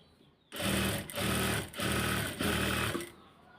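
A sewing machine stitches a kameez sleeve in four quick, loud bursts of rapid whirring, separated by brief pauses, close and alone.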